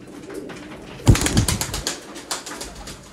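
Pigeons from a flock of about 120 coo softly in the background, then a sudden burst of wing flapping rises loud and close before settling into scattered fluttering.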